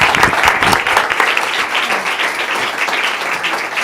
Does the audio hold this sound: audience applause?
yes